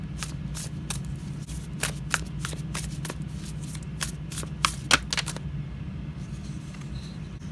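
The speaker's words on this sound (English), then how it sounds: "I'm going to go ahead and shuffle this" Crisp, rapid riffle-and-snap bursts of tarot cards being shuffled, repeated several times up close, then a quieter pause at the end.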